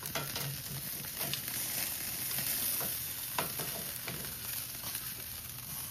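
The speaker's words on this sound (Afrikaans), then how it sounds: "Die hoender wat ons braai." Chicken cooking on a braai grill outdoors in Kruger National Park, giving a steady close sizzle and fizzing crackle with soft scattered pops throughout, no talk over it.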